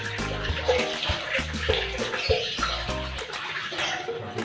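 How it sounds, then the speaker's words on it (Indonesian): Water poured from a container to rinse a cat's toilet area, a steady splashing and trickling flow that runs through the whole stretch, close by and moderately loud, with no one speaking over it. "Jadi airnya udah ada nih, tinggal disiram di sini saudaraku."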